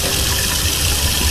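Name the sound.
hot water tap running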